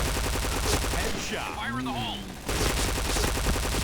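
Rapid automatic fire from a P90 submachine gun in the shooter game Point Blank, dense bursts of shots heard close and loud, pausing briefly mid-clip while someone talks over it.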